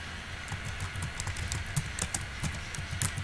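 Someone types text on a computer keyboard, a quick, steady run of close, light key clicks with no voices.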